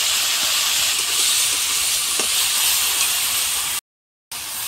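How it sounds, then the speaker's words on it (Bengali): Vegetables frying in hot oil with salt and turmeric, giving a loud, steady, close hiss of sizzling that cuts out briefly near the end before resuming. "এখন আমি সবজি কয়টা ভেজে নিব।"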